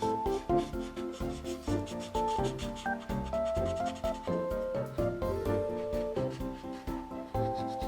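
Cheap acrylic marker colour rubbed on paper to blend it, a repeated rhythmic rubbing and scraping in short strokes, close, heard alongside steady background music.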